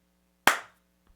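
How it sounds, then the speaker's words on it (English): One sharp hand clap for audio sync, close and loud, ringing briefly into a short decay against an otherwise quiet room with a faint steady hum. "that was my weakest clap sync yet"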